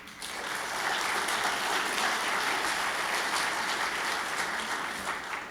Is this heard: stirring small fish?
no